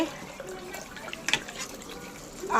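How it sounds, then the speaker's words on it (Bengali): Tap water running into a kitchen sink while pieces of hilsa fish are washed by hand, a short stretch of soft splashing and trickling with a brief louder splash near the middle. "আমি একটু মাছটা ধুয়ে নিই"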